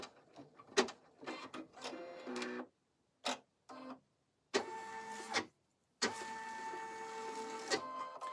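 Embroidery machine stitching out snap placements on an in-the-hoop vertical wallet, rapid mechanical whirring and ticking in several short bursts separated by pauses, close and fairly quiet.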